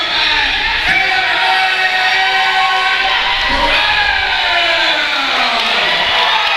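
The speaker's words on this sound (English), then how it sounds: "a big round of applause for the Silver Man, Derrick" Loud crowd noise at an MMA fight event, with sustained cheering, yelling and whoops filling the arena continuously and close up.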